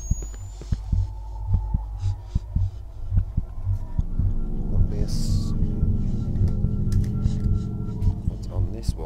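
Heartbeat sound effect in Cry of Fear horror game, a steady thudding pulse repeating about every half second, loud and close, with ambient drone and brief noises later.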